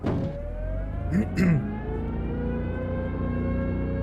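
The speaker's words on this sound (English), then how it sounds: "Alright, sound the siren. Residents warned" A tornado warning siren in the video game Tornado Research & Rescue drones steadily with a long rising tone under a low rumble, briefly joined by a couple of short synthetic chirps.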